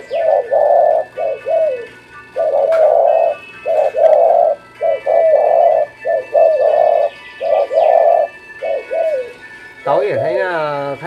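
Several cooing calls from a pet bird, likely a dove, in repeated rounded phrases with short gaps, loud and close, ending with a rising squeaky call.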